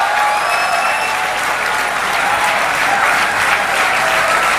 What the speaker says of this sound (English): give them a big hand of applause